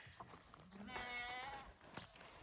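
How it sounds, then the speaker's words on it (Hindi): A single sheep bleats once, a wavering nasal cry of about a second, fairly faint against quiet outdoor background. "चलो भेड़ों की नेचुरल आवाज़ सुनाती हूँ मैं आपको।"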